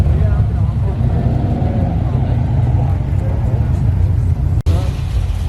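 A Chevrolet Camaro rolls in and parks at a car meet, its engine rumbling loud and steady close by, with a short cutoff near the end, under a dense low vehicle drone.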